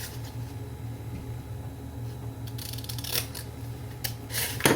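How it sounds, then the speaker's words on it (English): Scissors snipping small tabs off a paper bag scrap envelope, a few quiet cuts with soft rustling that turn brisker and louder toward the end, over a steady low hum. "I'm going to cut these little tabs off"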